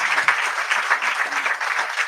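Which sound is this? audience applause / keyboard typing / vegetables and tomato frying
audience applause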